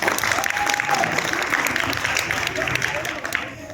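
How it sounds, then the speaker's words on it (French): Audience applause at a dance event introducing children to dance, a dense steady clapping from a crowd that carries on for several seconds, with voices murmuring underneath before it begins to thin out. "On les applaudit très fort"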